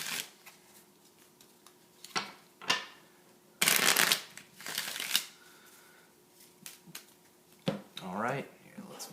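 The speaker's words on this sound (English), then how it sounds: "I shuffle the card I pulled back into the material deck. I'll shuffle a couple times." A deck of playing cards for a tabletop game is shuffled several times up close, giving bursts of crisp riffling and flapping separated by short pauses, with some quiet talk in between.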